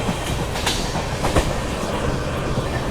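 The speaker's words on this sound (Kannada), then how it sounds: "ಫುಲ್ ಸ್ಪೀಡಲ್ಲಿ ಹೋಗೋ ಟ್ರೈನ್ ಆಗಿದೆ." A passenger train on the Mysuru–Shirdi route rushes past at full speed with a steady roaring rumble and faint clicking of wheels on rails.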